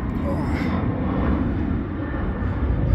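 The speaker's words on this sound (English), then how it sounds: "Sorry about the noise, we are very, very close to the London City Airport." An aircraft roars overhead near London City Airport beside the Docklands waterfront, a loud, steady rumble filling the whole stretch while someone talks over it.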